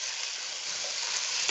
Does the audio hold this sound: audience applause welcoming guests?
no